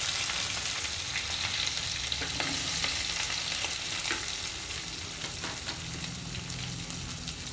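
Onions tipped into hot oil for an Indian potato fry, a constant bright sizzle with scattered stirring clicks that eases slightly partway through.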